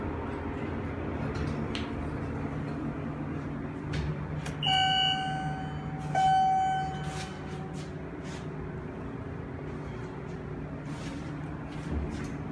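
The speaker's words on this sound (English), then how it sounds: "That beeping sound is coming from" Two clear electronic beeps from a Brock hydraulic elevator ring out a couple of seconds apart over a low background hum, followed by faint clicks.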